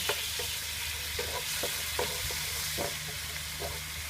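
Grated large onion stir-frying in a pan with sake, giving a dense, steady hiss and a series of soft, regular scrapes as it is stirred, heard up close.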